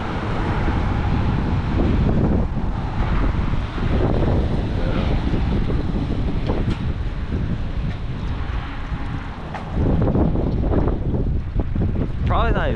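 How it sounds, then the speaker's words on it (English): Strong, steady wind gusting at around 40 miles per hour during a big windstorm in the Ohio Valley roars continuously and loudly against the microphone, with no clear pauses. "have gusts around 40 to 50 miles per hour right now at max"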